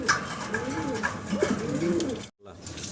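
Pigeons cooing close by at a pigeon seller's stall, several soft, rolling coos in a row before a brief cut.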